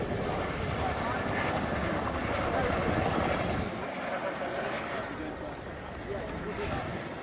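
Chinook twin-rotor helicopter at an air display flying an underslung load circuit, its deep rhythmic rotor chop throbbing steadily and loudly throughout, with a voice talking over it.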